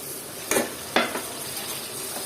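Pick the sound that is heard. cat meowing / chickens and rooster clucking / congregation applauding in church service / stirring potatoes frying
stirring potatoes frying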